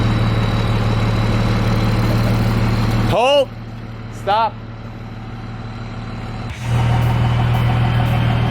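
A '78 Dodge Macho Power Wagon truck engine idles with a steady low rumble, cut off abruptly midway, leaving brief voices shouting over a quiet gap before the loud engine drone returns.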